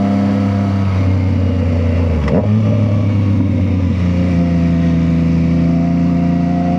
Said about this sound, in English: raw sound of the exhaust